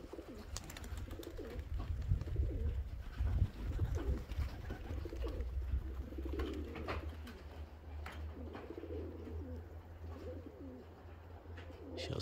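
Pigeons coo steadily near a dovecote, their soft repeated throaty calls layered over one another throughout, with a low rumbling background and a few faint chirps.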